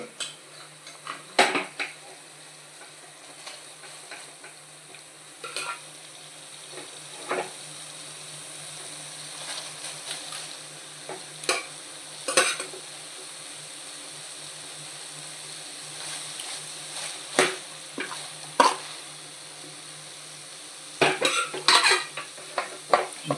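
Cooked rice is stirred into a tamarind pulihora mix in a pan, a soft continuous sizzle under repeated scattered clinks and scrapes of a spoon against metal over a long stretch, close and without talk.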